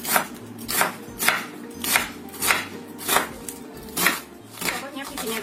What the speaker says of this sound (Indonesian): Kemudian kita setengah cincang halus seperti ini.